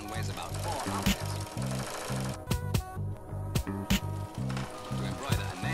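An automatic sewing machine runs with a fast, rhythmic mechanical chatter, broken by a few sharp knocks and short pauses, loud and close.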